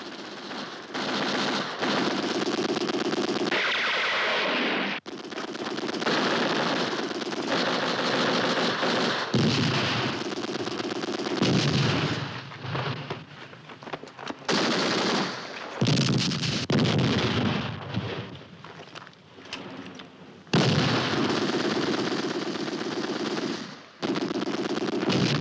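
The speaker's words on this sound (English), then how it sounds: "Lay down mortar fire." Sustained machine gun bursts and heavy gunfire with mortar-like blasts in a WWII desert battle at El Alamein, loud and dense, rattling almost continuously with brief gaps throughout.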